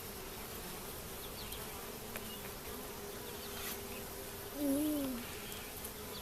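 Honey bees hum in a dense, continuous drone around an opened hive during an inspection, with a brief nearer, louder buzz as one passes close and a soft exclamation from a person.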